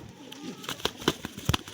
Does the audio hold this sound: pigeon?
yes